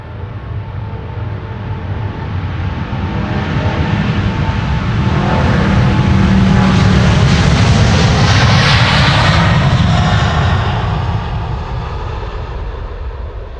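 A KLM Boeing 777-200 departing Amsterdam Schiphol roars with loud, steady jet engine noise that swells toward the middle and slowly eases, with no voices.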